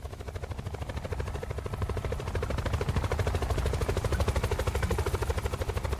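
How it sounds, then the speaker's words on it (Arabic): A helicopter in a Roblox game passes close by or overhead, its rotor beating in a loud, fast, regular chop that swells slightly as it nears and carries on steadily with no voices. "لقيت طيارة هليكوبتر معدية من جنبي او من فوق يعني"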